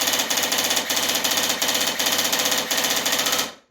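An Amoeba AM-016 electric airsoft gun firing in three-round burst mode, with rapid mechanical clattering bursts repeating steadily and loudly, close by, ending abruptly.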